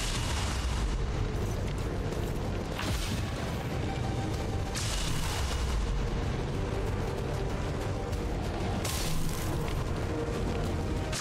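Sustained weapon fire in XCOM 2, a dense, loud, unbroken roar of blasts and booms filling the whole stretch with a few stronger bursts.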